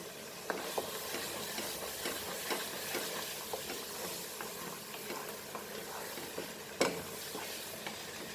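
Masala for Kolhapuri dry mutton sizzles and fries steadily in hot oil, with repeated stirring scrapes in the pan and a sharper clink near the end, close and continuous with no talk.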